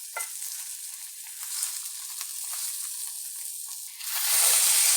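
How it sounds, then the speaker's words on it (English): Steady loud sizzling of a Wagyu Denver steak searing in a hot pan, a continuous bright hiss that swells louder near the end, with no talking. "You can hear it sizzling."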